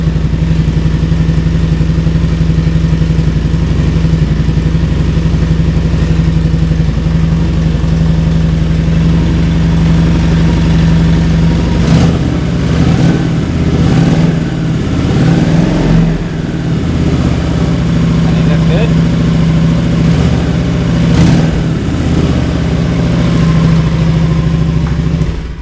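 Honda Shadow 1100 ACE motorcycle engine idling with a steady low hum, then the throttle is blipped a few times, bringing brief rising revs before it settles back to idle.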